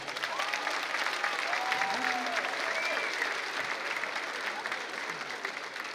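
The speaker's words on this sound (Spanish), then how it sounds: "Un aplauso para ellos." An audience at a school dance festival claps in steady applause, heard at moderate distance with some voices and cheers rising over the clapping throughout.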